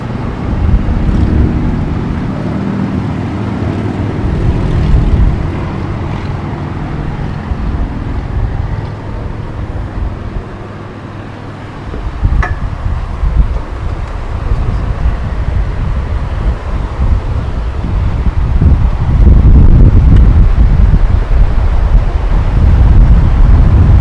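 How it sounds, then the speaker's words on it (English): Strong wind buffets the third floor of a devastated, abandoned mansion, a loud continuous rumbling roar that swells and gusts, growing heavier toward the end, with no talking. "There is a lot of wind up there."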